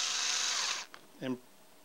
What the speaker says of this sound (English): Reverse your drill.